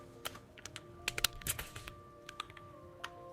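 Code being typed on a computer keyboard in quick uneven bursts of crisp key clicks, close and quiet over a faint steady hum, with no talk.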